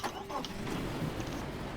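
A car engine in the destruction game Teardown starts and settles into a steady low rumble with broadband mechanical noise, loud and close throughout.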